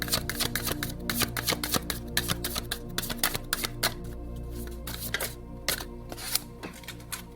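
Tarot cards are shuffled by hand for a spirituality reading, making a continuous close-up flutter of rapid papery slaps and riffles over a low background hum.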